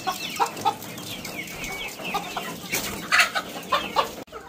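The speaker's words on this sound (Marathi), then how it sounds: "आता हे फक्त कोंबडे जे आहेत तर ते वेगळे केलेले आहेत" Young roosters penned apart from the other chickens on a farm cluck and squawk in short, overlapping bursts close by, with scattered louder calls and no talking.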